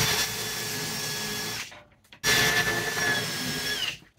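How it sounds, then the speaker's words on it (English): A power drill whines steadily for about a second and a half, stops briefly, then runs again with a rising pitch before cutting off. "and then we're just going to drill some holes."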